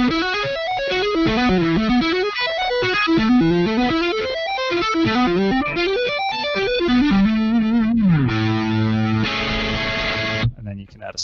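Distorted electric guitar plays fast flowing arpeggio shapes in a metal clinic setting, a continuous stream of bright picked notes that ends on a sustained chord, then cuts off.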